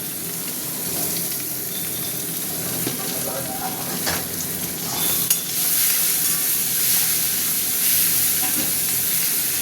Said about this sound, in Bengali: এবার চিংড়ি মাছটা দিয়ে দিচ্ছি চিংড়ি মাছটা দিয়ে দিলাম